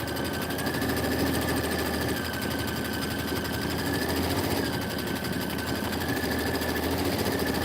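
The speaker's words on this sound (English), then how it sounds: "Okay, you're doing your quilting stitch" An embroidery machine runs a quilting stitch with a dense, steady mechanical whir and rapid needle chatter, continuous and close, with no pauses or talk.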